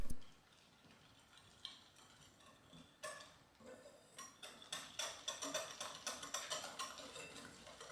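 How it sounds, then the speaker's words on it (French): A whisk stirring batter of flour, baking powder and cocoa in a bowl, soft at first, then a steady run of quick, close ticking strokes that grows brisker toward the end. "Puis mélangez à nouveau à l'aide du fouet."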